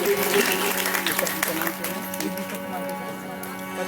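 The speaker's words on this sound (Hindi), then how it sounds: "ऐसे आदरणीय हर्षवर्धन केसरवानी जी के लिए जोरदार तालियों से स्वागत करिएगा।" Audience applause welcoming an honoured guest at a Ramcharitmanas recitation event in a club hall, steady dense clapping held for the whole stretch, moderately loud with a faint voice or music tone underneath.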